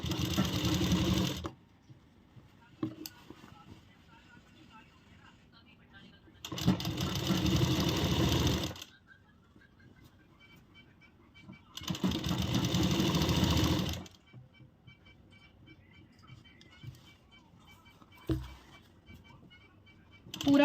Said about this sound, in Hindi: अब इस तरह भी हम इस पर सिलाई लगाएंगे, इस तरह पकड़ेंगे दोनों पार्ट को।